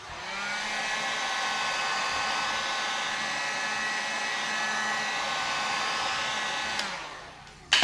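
A heat gun blows a steady, loud, whooshing roar while warming vinyl wrap on a car panel, running evenly for several seconds before cutting off with a brief click near the end.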